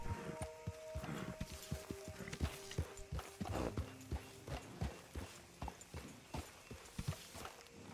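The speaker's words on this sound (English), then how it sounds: "Hitch the horse." Horse hooves clip-clop at a walking pace in Red Dead Redemption 2, steady close thuds in an uneven rhythm over a low ambient bed with faint tonal music lines.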